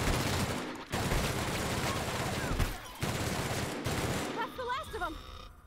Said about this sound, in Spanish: Tú escuchas tiros y ya te lías.